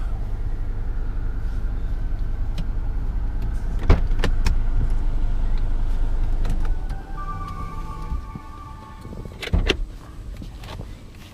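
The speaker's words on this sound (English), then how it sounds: "And also it's got a power shade. Push this button." The power sunroof shade motor of a 2015 Kia Optima SX Turbo hums steadily inside the cabin, with a few clicks and thumps and then a softer whine as the shade finishes moving. No one speaks.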